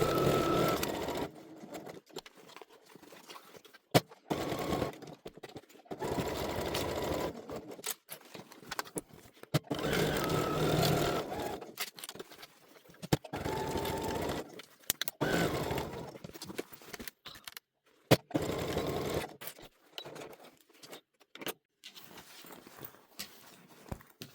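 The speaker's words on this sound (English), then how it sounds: "And we're going to sew all the way around the outside of the pocket." A sewing machine stitches around the outside of a zipper pocket in short bursts, its rapid mechanical whir starting and stopping repeatedly with brief pauses between runs, close and moderately loud.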